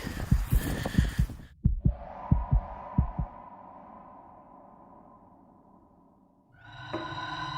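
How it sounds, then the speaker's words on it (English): A heartbeat heard while walking outdoors at night during a live field investigation, a few soft low thumps in a quick irregular run early on, then a long fading hum and a rising wash of noise, with no talking. "So odd to be able to hear your own heartbeat when you're walking."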